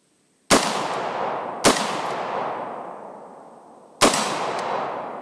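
Three sharp, loud rifle shots from an FN SCAR 16S, spaced unevenly with long reverberant decay after each, the second following the first closely and the third after a longer pause, on an outdoor range.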